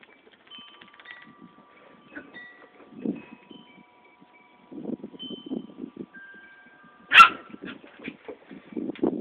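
A puppy yips and barks in short bursts with whining between, fairly close, with a sharper loud bark near the end and no talking over it.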